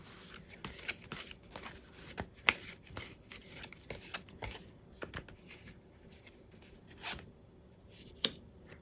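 Tarot cards riffled and handled in a brief shuffle before one is drawn, soft papery flicks and slides with a few sharper snaps, close and quiet, no talking.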